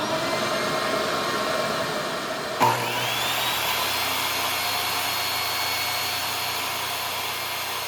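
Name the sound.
table saw crosscut sled cutting wood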